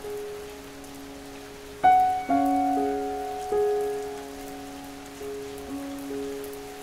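Soft, steady rain patters on surfaces as an even hiss, with a few sustained chime-like tones ringing out over it and no voices.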